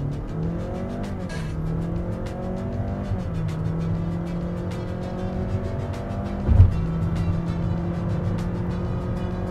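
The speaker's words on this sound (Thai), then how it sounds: "เรามาลอง0ถึง100ในโหมดสปอร์ตในตัว HR-V RS กันนะครับ" A Honda HR-V e:HEV RS hybrid accelerating from 0 to 100 km/h in sport mode gives a loud, close engine drone that climbs steadily in pitch, drops at a shift, then rises again, with one brief thump partway through.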